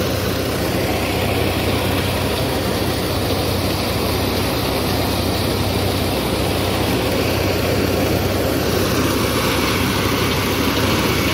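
A tractor engine drives a corn thresher through a pulley belt during corn extraction, making a loud, steady, close-up drone with constant mechanical roar and no break.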